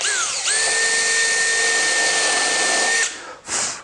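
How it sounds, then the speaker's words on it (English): A power drill fitted with a countersink bit bores a hole in wood for a stopped dado jig. It spins up to a loud, steady whine for about two and a half seconds, stops, then gives one brief burst. "I'm just taking a snappy countersink bit and drilling a hole slightly off to the side."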